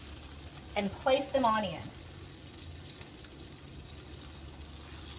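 Parmesan and pork rind crusted chicken cutlets fry on a burner over medium-high heat, giving a steady, moderate sizzle throughout, while a person speaks briefly near the start.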